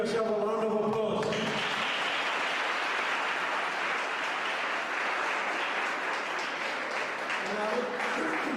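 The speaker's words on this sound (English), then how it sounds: "I'd like you to give yourself a round of applause." Audience at a Grade 11 maths workshop breaks into a round of applause, a steady dense wash of many hands clapping that swells after a brief moment of talk and carries on to the end.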